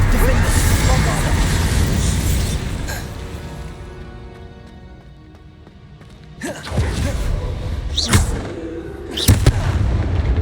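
Bombarda spell blasts in the video game Hogwarts Legacy, heard as a few sharp booming bursts in the second half, with fainter game sounds and voices around them.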